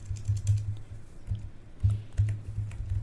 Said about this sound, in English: So type this command carefully. Simply type in gp update.